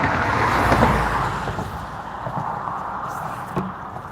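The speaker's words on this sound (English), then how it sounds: "I'm gonna move down just a little bit once this car goes by." A car drives past near a bridge, a broad road whoosh that peaks early and then fades to a steady hum, fairly close, with no talking.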